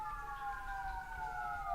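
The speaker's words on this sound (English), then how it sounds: "we got some sirens in the background" Emergency vehicle sirens wail in the background as a steady, faint tonal whine that slowly drifts downward in pitch, heard alone over low room rumble.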